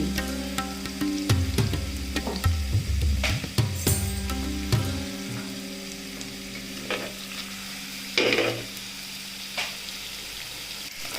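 Salmon steak fries in a pan with honey sauce, a steady sizzle running under louder clattering stirs and scrapes early on, then settling into a quieter continuous hiss with occasional bursts.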